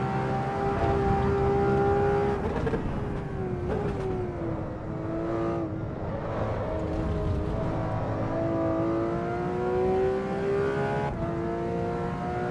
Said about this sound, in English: this car sounds pretty good